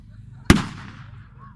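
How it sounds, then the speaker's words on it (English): A single sharp crack of rifle fire at a 1940s battle reenactment rings out in the open, a loud near shot followed by a short fading echo, against faint background murmur. "I can hear some rifle fire."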